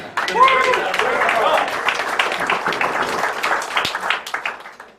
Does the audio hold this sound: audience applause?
yes